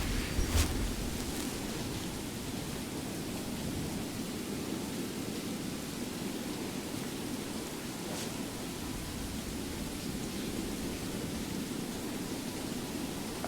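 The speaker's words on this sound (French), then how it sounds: "désolé pour le bruit omniprésent de pluie, mais bah, il pleut quoi" Steady rain pours down in a snowy Skyrim landscape, a constant broadband hiss with no voices, and a couple of faint distant rumbles break through near the start and again midway.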